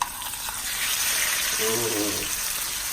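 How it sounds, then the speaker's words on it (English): Massive 2 lb porterhouse steak laid into a hot pan, sizzling loudly and steadily for the whole stretch while a man briefly reacts aloud. "What I'm gonna do is just place this massive piece of steak on."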